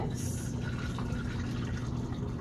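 Photographic fixer solution is poured back into its container in a darkroom, giving a steady close trickle of liquid that runs through the whole stretch without talk.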